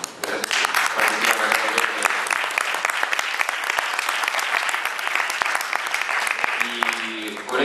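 Audience applause at a university book launch ceremony, dense continuous clapping with sharp individual claps standing out, a few faint voices underneath and a brief tonal sound near the end.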